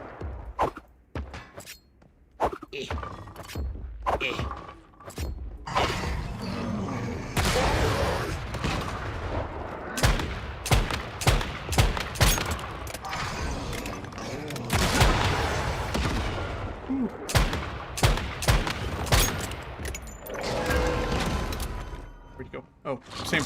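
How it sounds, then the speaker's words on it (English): A missile strike and repeated gunfire in the Once Human survival game: sharp, closely spaced shots and thudding impacts run throughout, loud and near, with occasional talk in between. "A missile!"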